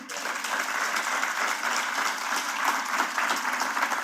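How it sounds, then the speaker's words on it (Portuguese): A church congregation applauds together in steady, sustained clapping that fills the room at an even level from start to finish. "Você poderia aplaudir o Senhor por isso?"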